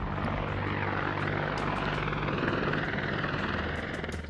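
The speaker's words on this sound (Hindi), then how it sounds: "चिनूक, अपाचे, चेतक, चीता जैसे हेलीकॉप्टर से मुश्किल हालात, खराब मौसम के बावजूद" Indian Air Force military helicopter flying, a steady loud rotor and engine roar that holds constant throughout with no speech over it.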